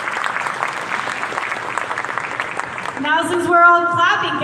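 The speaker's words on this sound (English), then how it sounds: "Now since we're all clapping, can we keep clapping" Applause and cheering from a conference audience at a Bitcoin event in El Salvador, a dense steady wash of many hands for about three seconds before a voice speaks loudly over the tail of it.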